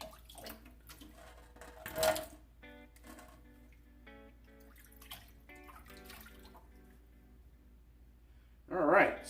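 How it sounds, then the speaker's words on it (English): Water splashing and dripping as a shaving brush is wet at a sink, with short bursts of running water, scattered drips and a voice speaking briefly in between. "So I'm going to wet the brush here."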